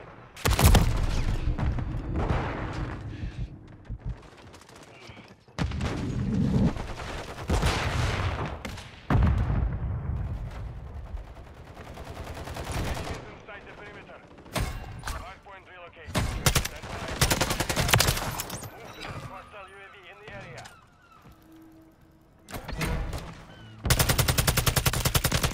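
Gunfire in the Modern Warfare 3 video game, with repeated loud bursts of automatic fire and single shots separated by brief quieter gaps, close and dominant.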